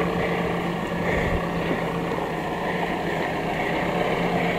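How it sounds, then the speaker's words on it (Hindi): A BS6 Mahindra Bolero Camper 4x4 with a 70 PS engine labours up an off-road climb, its engine giving a steady, loud droning rumble throughout, close by and with no voices. "ना कोई जोर से आराम से चढ़ रही है बोलेरो कैंप पर"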